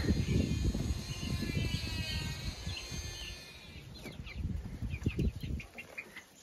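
Chickens cluck and murmur close by in a small shed, with soft rustling and scratching around them.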